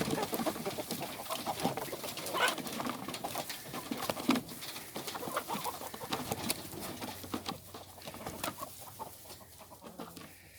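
Pastured chickens cluck and stir at first light, with soft, scattered clucks and rustling against a quiet outdoor backdrop, fairly faint overall.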